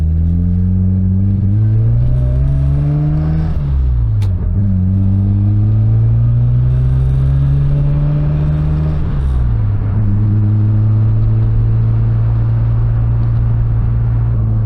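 Steady road rumble and engine drone from inside a moving Mazda RX-7, the engine revving up and easing off through two gear changes.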